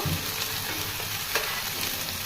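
Prawns frying in a hot pan for chili prawns, a dense, even sizzle close by, with a couple of light taps of a utensil.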